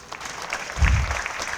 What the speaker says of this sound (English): with a loud round of applause, shall we welcome the young man